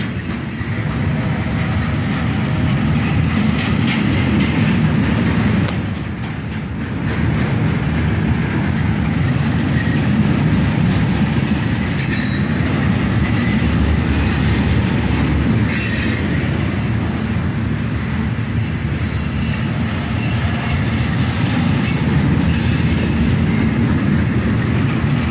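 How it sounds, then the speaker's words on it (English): A long freight train led by steel slab cars rolls steadily past during a three-train meet with an SD40-3 running as a distributed power unit, giving a loud continuous rumble and wheel noise with faint squeals. "steel slab cars starting off this train"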